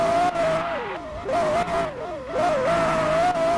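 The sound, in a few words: car driving and drifting in a video game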